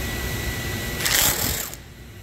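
A Ryobi impact driver fitted with an 11 mm metric socket bit runs in one short burst of roughly three-quarters of a second, a close high buzzing whir that stops abruptly over a faint steady hum.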